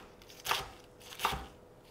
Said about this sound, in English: I'm just going to chop up.